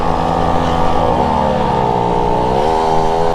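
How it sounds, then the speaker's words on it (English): Loud mopeds rev downtown, including a Tomos moped, their engines droning close with rising and falling pitch that climbs again near the end. "Loud ass mopeds downtown"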